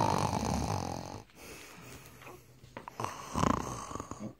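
A voice imitates a bear snoring during a bedtime story reading, giving a long rasping snore, then a pause and a second snorting, breathy snore, close and fairly soft.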